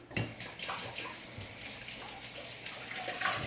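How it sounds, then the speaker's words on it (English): Tap water runs steadily into a sink while hands are washed during cake decorating, a soft continuous splash with small bursts, fairly quiet. "I wash my hands a lot through this part."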